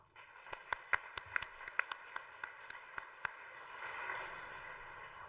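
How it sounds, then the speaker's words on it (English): A small conference audience gives a short round of applause: a dozen or so distinct, fairly close claps in an irregular rhythm, tapering off into quiet room noise. "Another round of applause."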